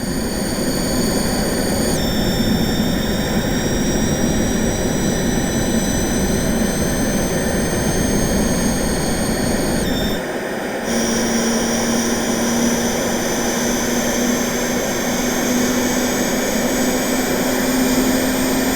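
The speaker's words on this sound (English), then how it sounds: "You can turn off stages with the on-off switch, which changes the overall sound of the turbine." A steady, loud synthesized turbine roar with a high whine that shifts pitch partway through, continuous and unbroken throughout.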